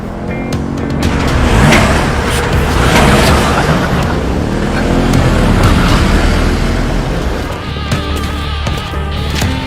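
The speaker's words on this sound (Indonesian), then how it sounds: "Tak lama kemudian, datanglah John bersama dengan para anggotanya menggunakan beberapa mobil" Several cars arrive in an animated donghua scene, their engines loud and close, surging and rumbling with whooshing passes and booming impacts layered over a heavy low drone.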